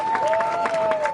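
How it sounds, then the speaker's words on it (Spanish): Crowd at Barcelona airport applauding and cheering as a returning Spanish-Palestinian Gaza flotilla activist arrives, steady dense clapping with a sustained tone running through it. "e han recibido en Barcelona a Saif Abukeyek, también entre aplausos y abrazos."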